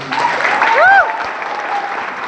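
Applause from a crowd at a business weekly meeting in Varanasi, a steady wash of clapping with some voices and tonal sounds over it, moderately loud.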